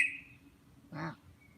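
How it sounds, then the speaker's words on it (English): A single bird call, a short harsh quack-like squawk, sounds once at moderate distance in a quiet outdoor setting in Rwanda, preceded by a faint high chirp. "Hear that bird?"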